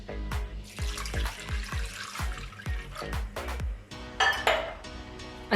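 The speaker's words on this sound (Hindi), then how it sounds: "पानी डाल देंगे 1 गिलास" A glass of water is poured into a pressure cooker holding beef with cinnamon, black cardamom, salt, ginger-garlic paste and onion, giving close gurgling glugs and metallic clinks that end in a brief splashy burst.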